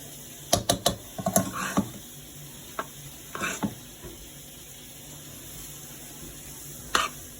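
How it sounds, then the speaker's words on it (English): Chunks of Velveeta cheese being stirred into a dish for a home Thanksgiving meal, a cluster of quick scraping and clacking strokes at the start, then sparse spoon scrapes over a quiet background, with a final knock near the end. "These are just Velveeta cut up in chunks. And of course we're gonna mix it all in."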